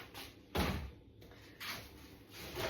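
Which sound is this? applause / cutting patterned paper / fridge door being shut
fridge door being shut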